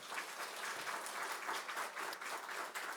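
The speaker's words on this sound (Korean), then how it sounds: "이 아름다운 선교사에게 하나님의 능력과 역사가 있도록 한 번 더 축복에 박수 주시기 바랍니다" A church congregation applauds a missionary at a Wednesday evening service, sustained even clapping from the pews, fairly quiet and without talk.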